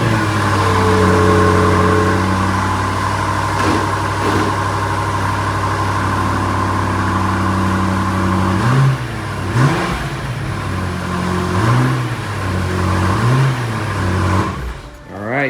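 A BMW F90 M5 with stock tune and stock catted downpipes idles with a deep, steady drone, then is blipped through several sharp revs rising and falling near the microphone.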